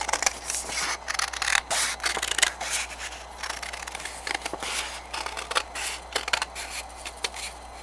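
Scissors snip through paper while cutting out a pumpkin shape along a curved line. Close, crisp rasping cuts arrive in irregular bursts with short pauses between them.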